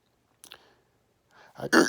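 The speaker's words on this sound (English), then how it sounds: "I have the hiccups all of a sudden" A woman hiccups suddenly at close range, a small catch followed by a louder, abrupt hiccup, with no other sound around.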